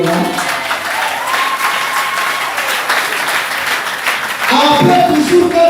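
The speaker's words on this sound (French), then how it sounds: "Vous pouvez acclamer pour ce royaume-là" A congregation at a French-language Christian service claps and cheers for several seconds, dense steady applause with voices rising, swelling louder near the end.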